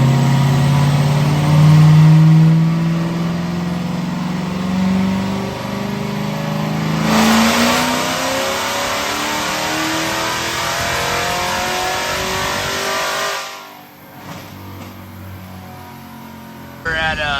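A 2019 Corvette ZR1 on a dyno during a power pull: a loud, close engine climbing in pitch through a long rising rev, then easing off to a lower hum and dropping sharply near the end.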